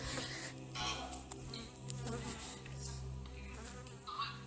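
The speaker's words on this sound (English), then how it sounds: "I'm trying to be still because I am under attack by bees." Bees buzz close by in a steady, wavering drone, with the pitch rising and falling as they move around; faint voice sounds underneath.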